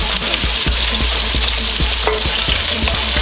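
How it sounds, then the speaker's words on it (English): Garlic spooned into hot oil sizzles and fries steadily for beef lo mein, a dense continuous crackle with occasional clinks and stirring taps, loud and close with no voices. "Alright, now using this spoon, I'm just going to add the garlic to it."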